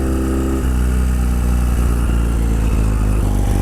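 A Ural sidecar motorcycle engine idles with a deep, steady rumble, then its throttle opens and the engine note rises into a loud, throbbing acceleration heard close up.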